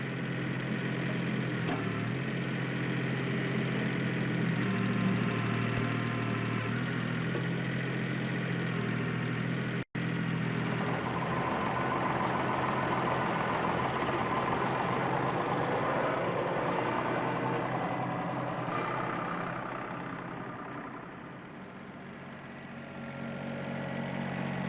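A 1983 Ford 1210 compact tractor fitted with a front loader and backhoe, its engine running in a continuous mid-pitched drone that dips slightly toward the end.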